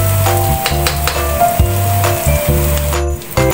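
Beans and carrots sizzle loudly as they fry with flat noodles, with a strong steady hiss broken by brief stirring and scraping sounds from the pan.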